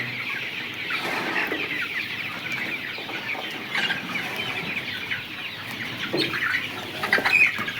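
A flock of layer and Egyptian laying hens on a farm clucks and murmurs steadily nearby, with occasional louder squawks and a brief flutter of wings.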